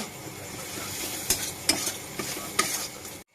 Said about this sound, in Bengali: জিরে গুঁড়ো এটাকে এবার এখন ভালো করে ভেজে নেব